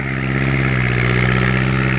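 A farm tractor engine runs steadily while the tractor is stuck in sticky clay mud in a paddy field with little water, a loud, close, even drone with a low hum and no speech.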